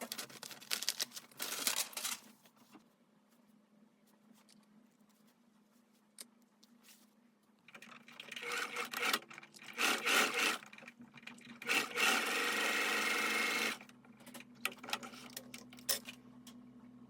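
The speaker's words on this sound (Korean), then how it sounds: "먼저 준비 과정으로 겉감과 안감 모두 다트 박음질을 해줍니다." Sewing machine stitching darts on the shell and lining fabric of a padded wrap skirt, heard in quiet intermittent bursts of running stitches separated by pauses and soft handling noises.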